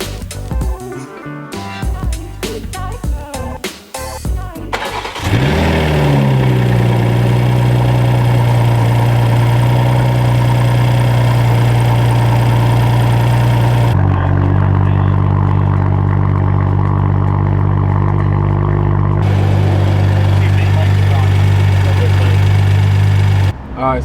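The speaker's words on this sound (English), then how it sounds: "Now we're gonna start the car up and see how it sounds." A 2023 BMW M240 with a B58 engine and Dinan intake cranks after some clattering handling noise, then catches with a loud flare and settles into a steady, deep idle with slight level shifts.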